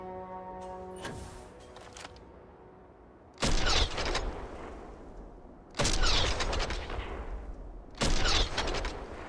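Uncharged weapon shots in the space game DarkStar Manufacturing, three loud broadband blasts spaced about two seconds apart, each decaying into a rumbling tail, after a quieter mechanical hum.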